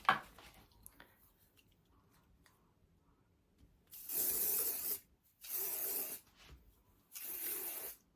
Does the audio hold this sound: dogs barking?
no